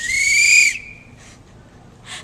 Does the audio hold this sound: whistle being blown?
yes